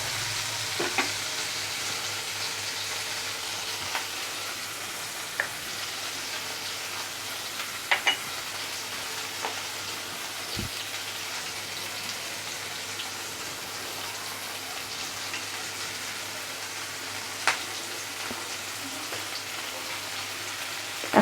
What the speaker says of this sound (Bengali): টমেটো কুচিগুলোকে ভেজে নিলাম